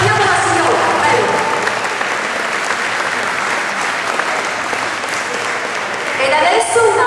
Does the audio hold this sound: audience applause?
yes